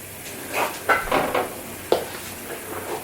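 A hot pan of dark caramel sauce is set into a bowl of water to cool, giving several short hissing bursts and soft clinks against a quiet kitchen background.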